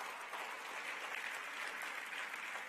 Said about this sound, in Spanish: El aplauso al Rey bendito.